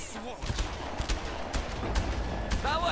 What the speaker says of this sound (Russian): Я звук выстрелов специально убавил.